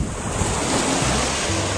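Beach surf at Playa Santa, Puerto Rico, a steady broad wash of breaking waves mixed with gusty wind buffeting the microphone, continuous and close.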